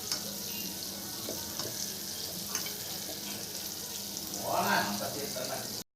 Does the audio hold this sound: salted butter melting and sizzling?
yes